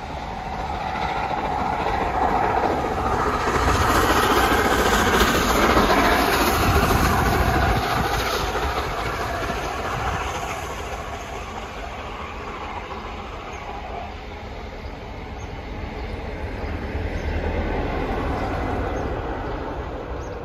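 A4 steam locomotive passing by on the mainline, a loud sustained rush of train noise with rumbling wheels that swells, eases and swells again over about twenty seconds, recorded close to the track.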